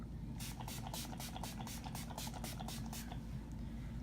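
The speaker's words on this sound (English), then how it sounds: "spray my face with the Mario Badescu facial spray with rose water" Mario Badescu rose water facial spray is misted onto a face in a rapid series of about ten short, soft hissing bursts with a steady quiet background.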